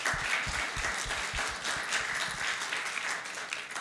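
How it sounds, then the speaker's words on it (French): Congregation applause at a church service, a full, sustained round of many hands clapping with some low thumps mixed in, continuing evenly for a few seconds. "j'aurais une main d'applaudissement pour Denis"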